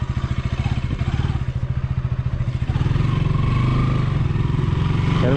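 A KTM Duke 200 motorcycle engine runs steadily nearby, its pulsing idle rising into a stronger, smoother drone as the bike pulls away in first gear, with a faint rattling from the rear.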